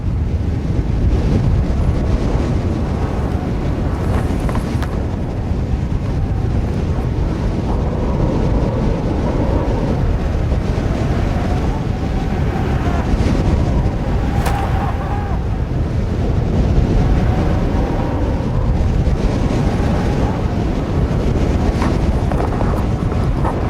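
Strong wind buffeting an exposed mountain corner, a continuous loud roar with gusts rising and falling throughout, no voices.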